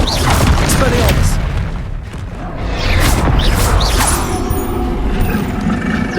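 Expelliarmus spell cast during combat in the Hogwarts Legacy video game, a loud burst of booming, whooshing magical impacts and crashes running continuously, with game voices grunting over the dense effects.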